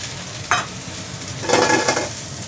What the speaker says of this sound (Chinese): 我哋先爆香我哋嘅料頭啊